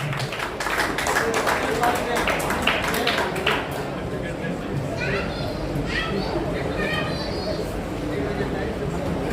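Applause from an audience at a chess tournament prize ceremony, sustained dense clapping through the whole stretch with children's voices and chatter mixed in, fading a little toward the end.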